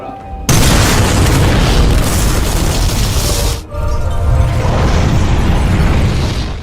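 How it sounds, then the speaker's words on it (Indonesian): A film scene of bombs going off in series inside a hospital: a continuous loud, roaring blast that starts abruptly, briefly dips, then surges into another sustained rumbling explosion. "serangkaian bom diledakkan secara beruntun yang menyebabkan hancurnya fasilitas di rumah sakit"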